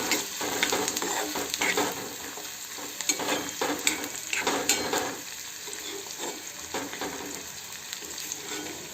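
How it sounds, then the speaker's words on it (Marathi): Chopped onions fry in oil for egg bhurji, sizzling steadily while a spatula stirs and clinks against the pan in frequent close-up strokes. "पूर्ण कांदे टाकून द्यायचे कांद्याला छान होऊ द्यायचे तेलामध्ये"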